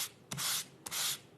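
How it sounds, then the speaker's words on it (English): A sanding block rasps over embossed cardstock in two brisk strokes, a close, dry scratchy rub with short pauses between passes. "If I come in with my sanding block"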